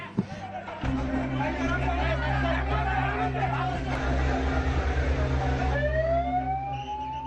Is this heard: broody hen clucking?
no